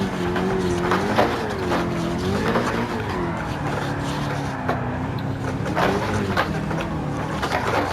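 A D1 drift car in Gran Turismo 7, engine revving with wavering pitch as the car slides, tires squealing steadily through the drift, loud and continuous.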